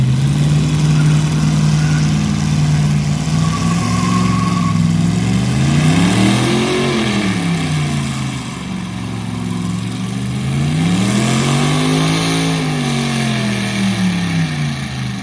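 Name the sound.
LS swapped Crown Vic engine revving in played clip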